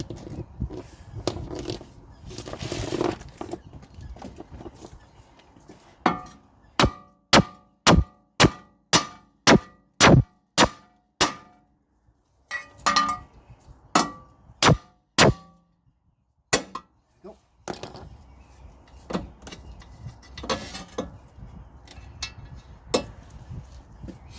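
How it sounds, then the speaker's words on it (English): A run of sharp metallic clangs from hammer blows on a steel front suspension part of a Mini Cooper R50, breaking a taper, struck in a quick rhythmic series, then a few scattered hits amid workshop noise. "we hit this with a hammer to break the taper"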